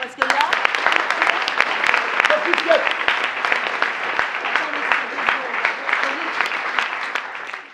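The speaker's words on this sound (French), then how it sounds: "On peut applaudir parce que là..." Audience in a French-speaking theatre performance breaks into applause, a dense, steady wash of clapping from many hands that holds throughout without any talking.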